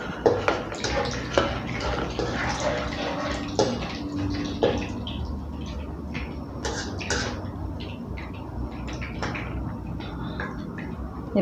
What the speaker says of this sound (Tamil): இப்போ நான் வெங்காயம் போடுறேன்.